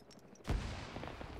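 A grenade blast in the military shooter Arma 3 goes off as a single low thump, followed by a rumbling, crackling tail that slowly fades, heard fairly faintly.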